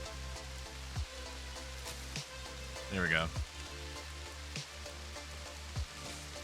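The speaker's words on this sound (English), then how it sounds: "because I want you to be able to hear the rain" Rain falls in RimWorld as a steady, soft hiss like drizzle on a surface. It runs beneath background music and a brief spoken voice.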